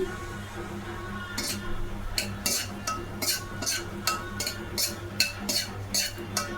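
Dry semolina (rava) being roasted in a pan and stirred now and then, a spoon scraping and clinking against the metal in short bursts over a low steady hum.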